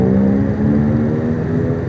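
A motorbike rides across Saigon city traffic, its engine giving a steady close droning hum with a low whirring tone and no speech over it.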